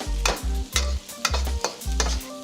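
Carrots and vegetables for chicken chow mein are stir-fried in a hot pan, with rhythmic scraping tosses every half second over a steady sizzle, close and loud.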